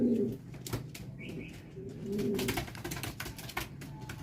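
A racing pigeon gives soft, low cooing calls at close range during a summer race derby, with light rustling and handling sounds around it.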